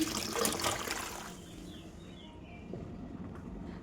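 Bathua leafy greens being washed in water, with splashing and trickling loudest at the start, then softer dribbling and swishing, close by, with no talk.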